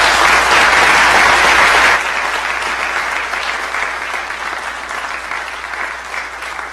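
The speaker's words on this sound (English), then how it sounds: "get a big round of applause for one of Justice Garman's mentors" A crowd at the Illinois Chief Justice swearing-in ceremony applauds retired Chief Justice Ben Miller, loud and close at first, then easing into a softer, sustained wave of clapping.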